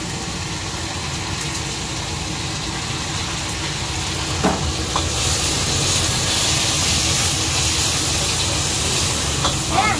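Aromatics stir-fry in chicken fat and pork fat at a noodle shop in Wanhua, Taipei, making a continuous hissing sizzle that swells louder midway, over the rumble of kitchen equipment, with occasional clanks.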